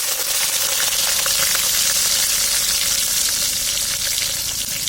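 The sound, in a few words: chopped garlic and spices frying in oil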